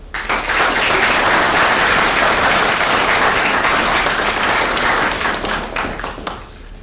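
Sustained audience applause welcoming a speaker to the stage at a talk on remembering President Lincoln, a dense wash of clapping from a full room that holds steady for several seconds before thinning out at the end.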